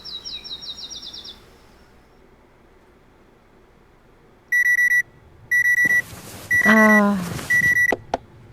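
In the video game Penelope Pendrick and the Art of Deceit, an alarm clock rings in three loud, repeated electronic beeping bursts after a quiet stretch, with a brief chirping sound before them and a sweeping tone among them.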